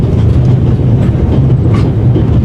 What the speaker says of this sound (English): May I ask you where this beautiful train is taking you?